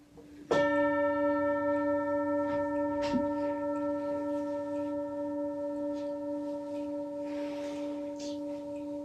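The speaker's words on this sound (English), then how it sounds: "when I strike the gong" Meditation gong struck once, its bright metallic clang ringing out into a long, steady sustained hum that fades slowly, with faint room noise and no talk.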